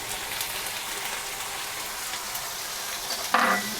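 Soya keema cooking in a pan with spices, a dense continuous sizzle like light rain, then a brief louder scrape of stirring at the close.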